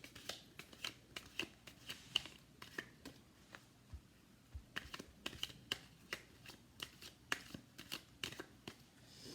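Tarot cards shuffled by hand, soft and quiet, with a steady stream of crisp riffling snaps and flicks in an irregular rhythm and no voice over them.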